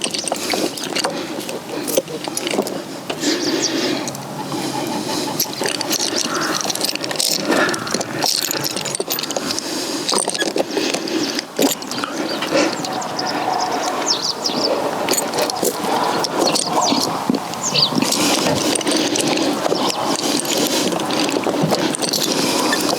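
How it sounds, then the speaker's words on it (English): Ratchet strap being cranked tight on a van parked on grass, a continuous busy mechanical clicking and rattling that runs steadily and fairly loud throughout, with no talk over it. "And once again we have this thing with a ratchet."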